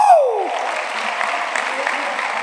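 A church congregation applauding during a Sunday school service in a cathedral, with steady broadband clapping that fills the whole clip after a brief tonal sweep at the start.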